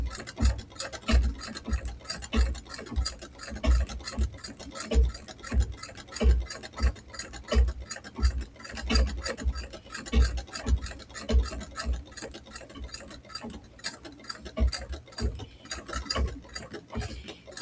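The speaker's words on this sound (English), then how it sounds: "Just wanted to do a couple of satin stitches for a few seconds." A sewing machine running satin stitches, a close, rapid mechanical ticking and clatter in steady pulses that speeds up and slows slightly, alone without speech.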